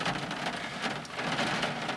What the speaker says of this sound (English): you can just hear the rain just pouring down, just pouring